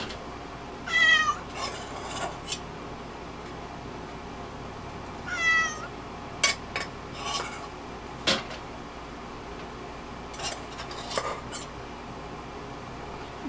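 A house cat meows several times in a quiet home kitchen, with short, clear calls spread out over a faint background and a few light clinks and knocks.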